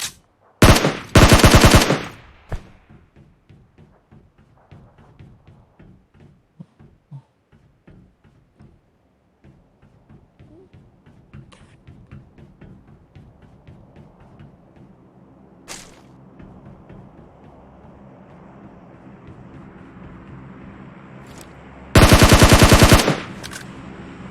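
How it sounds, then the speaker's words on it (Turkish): Bursts of automatic rifle fire in PUBG on the Erangel map: two loud, close rapid volleys at the start and end, with fainter scattered shots and clicks in between, and no talk. "Lan kim sıkıyor?"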